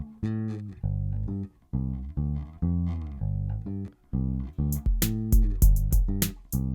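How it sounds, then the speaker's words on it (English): A compressed synth bass line runs through an Analog Circuit Factory unit with high ratio and quick attack and release, playing a series of sustained, rhythmic notes with bright clicky transients on the later hits. "and the bass sounds like this."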